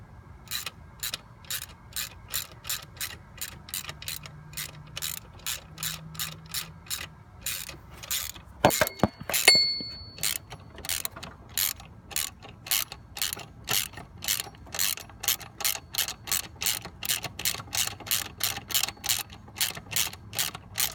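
A ratchet tightens an alternator bracket bolt on a 1999 Mustang. Close, crisp clicking repeats in steady quick strokes, with a brief metallic clatter partway through and no talking.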